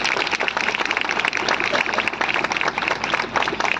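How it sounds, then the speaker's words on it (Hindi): A church congregation at a youth meeting claps loudly and continuously, a dense, close crowd applause holding steady throughout. "जोरदार ताली बजाकर प्रभु को"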